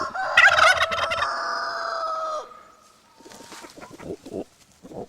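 A turkey gobbles loudly and close by in a rapid warbling burst, followed by softer clucking and scattered fowl calls, at a free-range farm with turkeys and chickens.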